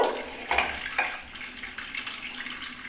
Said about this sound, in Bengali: ভালো করে হাতটা আমাকে ধুয়ে নিতে হবে ফলে জলও এসে গেছে